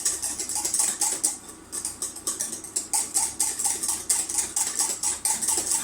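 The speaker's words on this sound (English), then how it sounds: "And then we just keep beating it so it becomes smooth." A utensil beats chocolate souffle mixture in a pan with quick, steady rhythmic scraping and tapping strokes, close and moderately loud.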